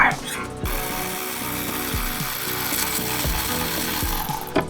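Rapid clicking of a ratchet loosening ignition coil bolts on a 2008 Honda Ridgeline engine during a valve adjustment, in repeated close bursts of metallic pawl ticks with short pauses between strokes.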